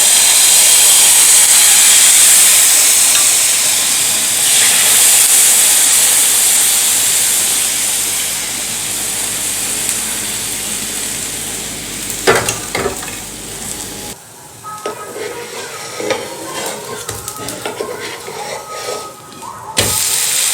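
Loud, steady sizzling hiss of onion dosa batter hitting a hot griddle, easing off over time, followed by quieter scraping and clatter near the end.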